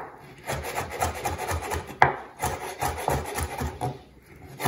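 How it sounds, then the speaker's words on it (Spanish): A knife chopping peeled shrimp finely on a board, rapid repeated close taps in quick bursts with brief pauses, no voices. "Vamos a empezar a picar los camarones, señores"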